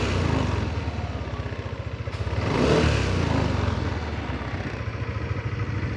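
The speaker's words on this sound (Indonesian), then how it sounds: "Coba sekarang kita ngegas." A motorcycle engine revs up while its battery charging is tested, a close, loud idle with a rhythmic low chug that swells through a throttle blip and settles back.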